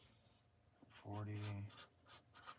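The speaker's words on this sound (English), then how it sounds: "I have to write all these down." Pen scratching on paper comes in short soft strokes while writing notes by hand, with a voice speaking over the middle of it.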